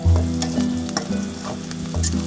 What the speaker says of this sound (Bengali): রসুন পেঁয়াজটা একটু ভালো করে ভেজে নিলে